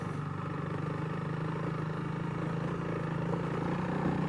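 A Honda CRF300L dual sport motorcycle rides through snow, its single-cylinder engine a steady, fairly faint throbbing drone with a fast regular pulse, uninterrupted throughout.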